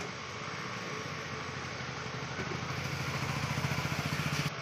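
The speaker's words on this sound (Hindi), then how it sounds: "यहाँ पे प्रिंटर के अंदर से आवाज़ आ रही है।" Abnormal gear noise grinds from inside a Canon 2010 printer after it powers on: a steady mechanical whir with a rhythmic clattering pulse that grows louder toward the end, heard up close with no talking.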